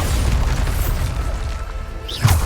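Bombarda spell blast in Hogwarts Legacy, a deep rumbling boom with a sharp burst near the end, loud and up close with no talk over it.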